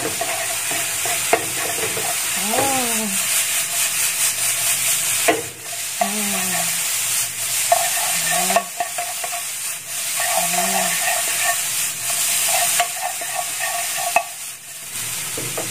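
A spatula stirs and scrapes through scrambled eggs in a frying pan over a steady sizzle, with a few scraping strokes spaced through the frying.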